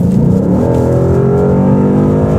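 A 2018 Ford Mustang GT with a 10-speed automatic accelerates hard, its V8 note climbing in pitch through the rev range, loud and close, heard alone without talk.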